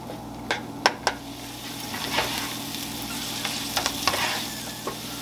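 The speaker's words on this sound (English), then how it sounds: "And we're just going to saute these until they're softened." Diced onions and minced garlic sautéing in a pan: a continuous soft sizzle close by, broken by sharp clicks and scrapes of a utensil stirring at irregular intervals, with no voices.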